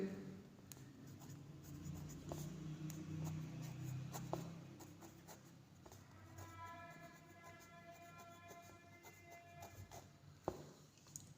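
A pen moves across a bubble-style board exam answer sheet in soft, scattered scratches with a few sharper taps, faint and close, with a low background hum and no talk.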